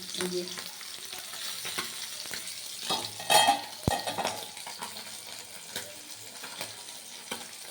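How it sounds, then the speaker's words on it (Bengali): Pabda fish fry in hot oil with a continuous close crackling sizzle, broken by scraping stirs and a few metallic clinks of a utensil against the pan. "মাছগুলো কিন্তু ভাজা শুরু করে দিয়েছি"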